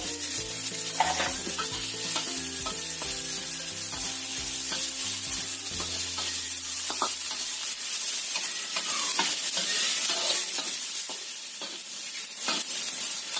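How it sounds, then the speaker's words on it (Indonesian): Onions sautéing in a hot pan with sausage until slightly wilted, continuous frying crackle and intermittent stirring, close and steady, music fading out partway through. "Tambahkan bawang bombay. Kita tumis cuma sampai agak layu aja bombay-nya."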